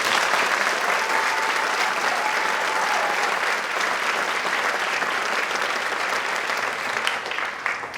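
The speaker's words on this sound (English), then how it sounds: "So we give them one more round of applause." An audience at a 6th grade spring concert gives loud, sustained applause, a thick wash of clapping from many hands that holds steady for several seconds before starting to thin out at the end.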